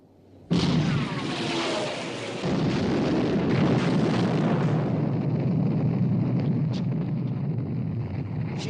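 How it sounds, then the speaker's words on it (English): A battleship's main guns open fire in a 1960 Bismarck war film: a sudden loud blast, then a second surge into a sustained, rumbling roar that slowly thins out over several seconds. "Open fire, main armament."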